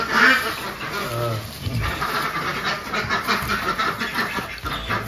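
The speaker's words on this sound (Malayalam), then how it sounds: "താറാവ് താറാവേ." Ducks quack repeatedly in a small indoor pen kept through a cold Canadian winter, the calls close and lively with a voice speaking faintly under them.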